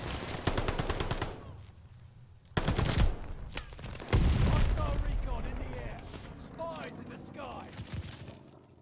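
MP40 incendiary inferno rounds fire in the Call of Duty Vanguard video game, with loud, rapid automatic bursts that fade between volleys over several seconds.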